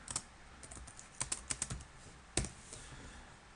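Typing code on a computer keyboard, with sparse clicky keystrokes: a few quick taps, a brief cluster of presses, then one more isolated stroke. The keys are close and fairly quiet in a still room.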